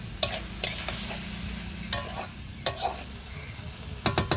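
Tomatoes dropped into a hot frying pan with chopped garlic and salt, sizzling steadily while a spoon scrapes and stirs in several bursts of clatter, close and fairly loud, no voices.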